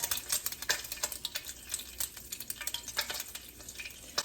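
Slices of Portuguese sweet bread dipped in egg mixture fry in a pan, a quiet crackling sizzle made of rapid irregular ticks and pops, close but fairly soft.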